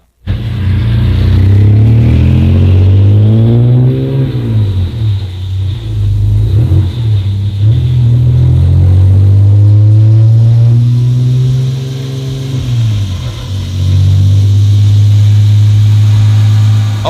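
A widebody BMW E46 drift car with a tuned map runs on a dyno, its engine droning loud and close with repeated rising revs and dips back toward a steady idle.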